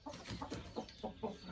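Several chickens on a farm in France cluck close by in short, soft, irregular bursts, a few pulses per second with no talking.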